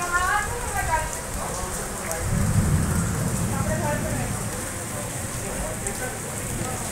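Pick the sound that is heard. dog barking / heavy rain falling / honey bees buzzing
heavy rain falling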